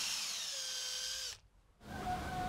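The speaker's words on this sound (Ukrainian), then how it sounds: "Свердлимо три отвора повздовж." A power drill whines steadily at close range while drilling holes in a metal fishing-lure blade, cuts out briefly into near silence, then spins up again with a high, tonal whir.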